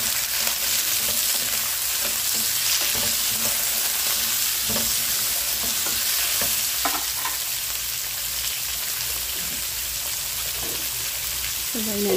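Squash sautéing in a pan with onion and garlic for ginataang hipon at kalabasa, a loud dense sizzle that crackles steadily, close up, with occasional stirring clinks.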